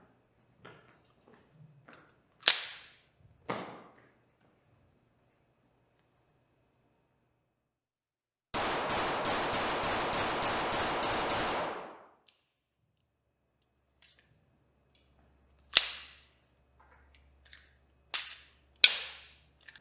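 A Sig P365 X Macro pistol fires sharp, loud single shots in scattered clusters, separated by quiet gaps, with a longer stretch of dense noise midway.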